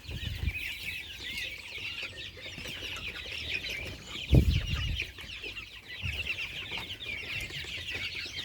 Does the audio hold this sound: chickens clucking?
yes